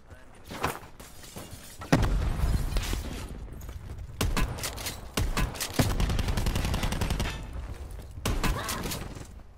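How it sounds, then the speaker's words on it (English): Sniper and other gunfire in the video game Call of Duty Blackout: several sharp, loud shots and bursts, some echoing, spread across the clip over a noisy battle background. "I'm getting sniped"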